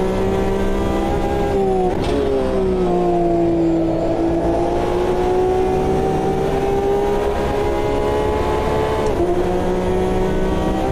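GTE race car engines roar in an Automobilista 2 endurance race, a loud sustained engine drone with steady harmonics that dips briefly as gears shift, then climbs again, close and continuous with no talking.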